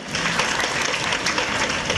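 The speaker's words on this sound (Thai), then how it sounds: "ขอเสียงปรบมือหน่อยครับ" An audience at a Thai talk event breaks into applause, a dense, steady wash of clapping that stays loud and even throughout.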